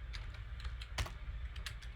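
Someone types on a computer keyboard while coding a CSS challenge, giving a close, steady clatter of keystrokes with one louder key hit midway and no talking.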